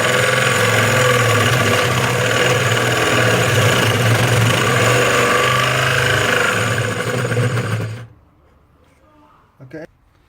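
A drill grinds loudly and continuously through hard wood for several seconds, then cuts off abruptly, leaving near silence with a brief faint sound.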